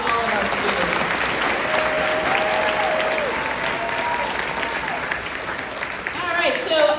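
Steady applause from a crowd at an 8th grade graduation, sustained clapping for several seconds, with a few whoops and cheers rising over it.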